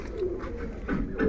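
Racing homing pigeons coo softly in a loft, low throaty murmurs rising and falling continuously at close range without speech.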